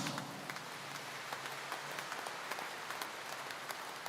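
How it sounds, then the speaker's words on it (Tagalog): Church congregation at a Quiapo mass applauding, a soft, even patter of many hands clapping, steady and somewhat distant, rain-like in texture. "Kaya maaari bang pumalakpak ng malakas"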